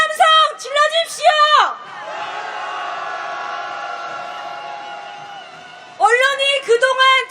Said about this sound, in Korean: 부패하고 오만한 언론을 향해 분노의 함성 질러주십시오.